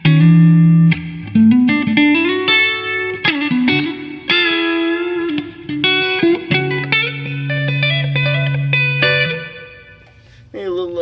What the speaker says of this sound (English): Let's give a little more reverb, and here's some cleans.